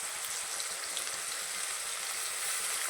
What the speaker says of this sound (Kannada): ಇದು ಸ್ವಲ್ಪ ಫ್ರೈ ಆದರೆ ಸಾಕು.